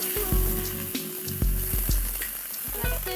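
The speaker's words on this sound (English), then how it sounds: "Just fry it on the side of the pan." Garlic paste sizzling and spitting on the side of a pan over low heat, a steady close frying hiss broken by small pops and the occasional tap of a utensil.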